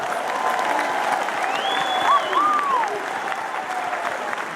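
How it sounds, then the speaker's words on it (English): A crowd at a motivational speaking event gives a sustained round of applause, dense clapping mixed with scattered cheers and whoops rising briefly in the middle, with music tones sliding beneath. "give yourselves a round of applause"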